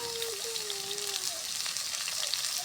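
Onions and potatoes fry in a pan for a bitter gourd stir-fry, making a constant close sizzle. A faint wavering whistle-like tone sits under the hiss.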